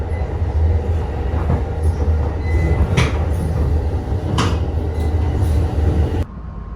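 Amtrak Silver Meteor or Cardinal passenger train running on Norfolk Southern track: a continuous loud rumble of wheels on rails with faint rhythmic clicks and brief high squeals, heard from on board, ending abruptly.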